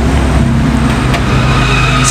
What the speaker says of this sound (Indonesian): karena di sini pinggir jalan besar, jadi suara-suara mobil itu sangat keras sekali